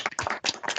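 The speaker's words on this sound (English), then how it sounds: "let us open our mic and once more applaud Dr. Chaniotis" Seminar participants applaud Dr. Chaniotis with an unmic'd burst of dense, uneven hand claps over a video call, heard briefly and fairly close.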